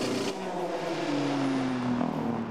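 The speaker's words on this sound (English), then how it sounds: "Lucas Degrassi in the number 8 Audi comes into the stadium section" The number 8 Audi endurance race car drives through the stadium section at the 6 Hours of Mexico, its engine note droning steadily and shifting pitch slightly as it passes, loud and continuous.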